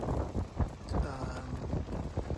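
Gusty west wind at a boat anchorage sheltered behind a reef in New Caledonia, buffeting close against the microphone in low rumbling surges for a few seconds.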